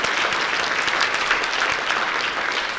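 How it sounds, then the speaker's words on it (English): Audience at an agricultural awards ceremony breaks into loud, sustained applause, many hands clapping densely and close, steady throughout with no speech on top. "let's give everyone a round of applause"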